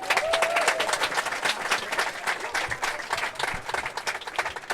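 Crowd applauding at a pro mixed doubles pickleball match in Florida, a dense burst of many hands clapping that stays loud and steady for several seconds, then thins slightly toward the end.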